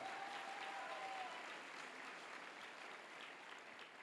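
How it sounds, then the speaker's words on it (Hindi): Sustained applause from a large audience at a celebratory Jashn E Kashi event in Kashi, steady clapping filling the whole clip at moderate level with no talk over it. "एक बार सभी के लिए जोरदार तालियां होनी चाहिए"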